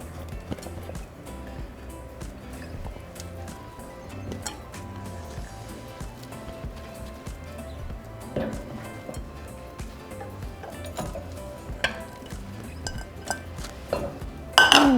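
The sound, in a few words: mixing shredded cheese into mac and cheese pot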